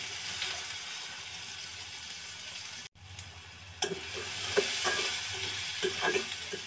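Chopped onions fry in hot oil for an egg patty filling, a steady, hissing sizzle that cuts out briefly and then returns, with soft scraping and tapping as they are stirred.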